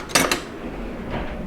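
A butter knife scrapes and clinks against a hot pan while cutting out clafoutis. There are two quick metallic taps near the start, then a softer scrape a moment later.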